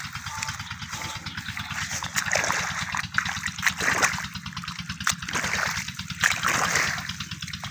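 Water trickles and splashes steadily through an irrigation channel into a field in a Punjab village, with an engine idling underneath throughout.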